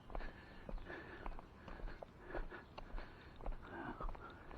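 Footsteps crunch at a slow, even walking pace outdoors in Villa Borghese, Rome, soft and close, with faint ambient background.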